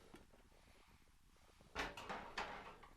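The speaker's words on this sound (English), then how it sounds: "We'll open up our pressure cooker." A pressure cooker lid is opened at home, with faint low clicks followed by a few close metallic clunks and scrapes as the lid is worked loose and lifted.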